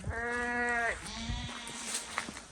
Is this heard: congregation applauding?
no